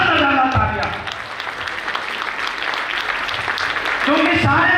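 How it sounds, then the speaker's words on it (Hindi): Audience applause for three mentors at a leader's grand-entry event, a dense broadband clapping wash lasting several seconds at steady, fairly loud level, with voices and music at the start and end. "मैं चाहूंगा इन तीनों त्रिदेव के लिए शानदार तालियां"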